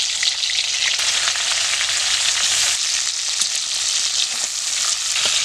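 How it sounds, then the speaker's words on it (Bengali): Prawns rubbed with salt and turmeric are laid one by one into hot oil, producing a loud, continuous, even sizzle close by with small crackles throughout. "মাছগুলো এখন দিয়ে দিচ্ছি এক এক করে।"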